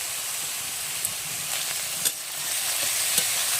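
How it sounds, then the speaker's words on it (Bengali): Potato pieces frying in a wok, a constant close hiss of hot oil with a few soft stirring scrapes and taps, no voices. "নাড়াচাড়া করে ভেজে নেব"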